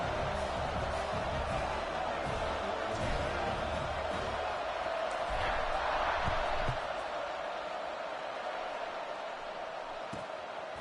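Stadium crowd noise in a college football video game, a broad steady roar with swelling cheers that rises mid-stretch and then settles, faint thumps scattered through it.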